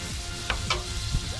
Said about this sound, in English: before we put that on the griddle, I'm going to get a little bit of butter down.